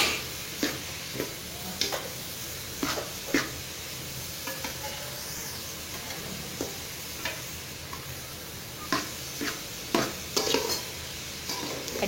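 Carrot and cabbage stir-fry with rice in a pan, where a soft, steady sizzle sits under repeated sharp scrapes and clicks of a spatula, spaced irregularly across the mixing.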